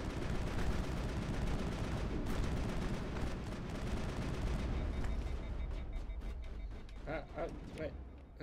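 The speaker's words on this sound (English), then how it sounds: "Shotgun." Dense, loud gunfire from a shotgun in the Mass Effect video game, repeated blasts over a continuous battle din with voices talking throughout, the clatter thinning toward the end.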